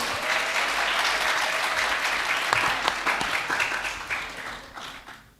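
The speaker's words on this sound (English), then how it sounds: "please give a big applause to our incredible speaker" Audience at an agriculture and food sovereignty forum applauds a speaker, a dense, steady burst of many hands clapping that holds for several seconds and then slowly thins and fades, with no talk over it.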